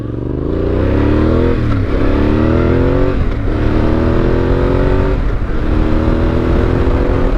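A Yamaha Tenere 700 motorcycle with a flashed ECU accelerates hard on a power test, its engine loud and close, pulling through several gears in rising revving sweeps, each broken by a short dip at the shift.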